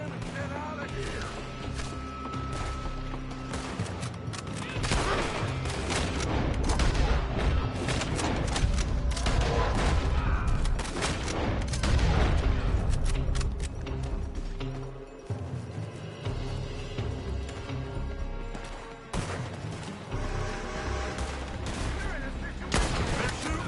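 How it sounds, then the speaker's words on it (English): Enemy gunfire in the Red Dead Redemption 2 video game: dense, overlapping volleys of shots and booms keep up for the whole stretch, loud and chaotic, with voices shouting over the fusillade. "They're shooting from that building."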